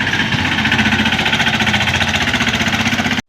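A tractor engine runs close by on a farm, a loud, steady diesel chug with a fast regular pulsing throb that stops abruptly at the end.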